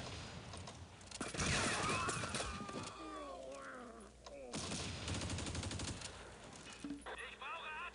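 Artillery and gunfire from a French 75 field gun in the Close Combat wargame, a busy battle mix of repeated loud blasts and crackling shots with game sound effects, carrying on for several seconds.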